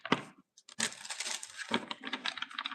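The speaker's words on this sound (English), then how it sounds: "One more shuffle." Tarot cards are shuffled by hand in quick bursts of crisp riffling and slapping, with a short pause between handfuls and a soft thump as the deck settles.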